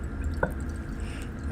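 A single faint drop of titrant falls from a burette into the flask during a chemistry-lab titration, one soft plink standing out briefly against steady low room noise.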